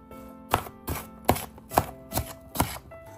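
A knife chops through unpeeled early-ripening Fuji apples being cut up for jam, giving six steady, close, evenly spaced thuds on a board with no talking.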